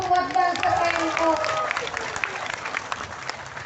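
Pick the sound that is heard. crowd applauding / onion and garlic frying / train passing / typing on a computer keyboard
crowd applauding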